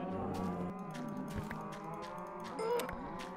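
Cows mooing in the video game Minecraft, a few overlapping low lowing calls over steady game background sound with occasional soft clicks, moderately loud and close, with no talking.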